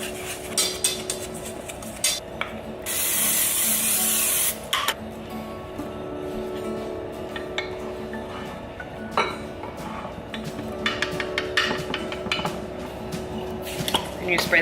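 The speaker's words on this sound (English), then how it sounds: "And you spray the top with oil as well." Oil is sprayed over the top of a baking dish in a steady hiss lasting about two seconds, surrounded by clinks of dishes and utensils in a kitchen.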